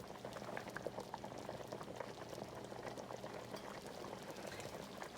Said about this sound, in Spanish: aquí ya está comenzando a hervir.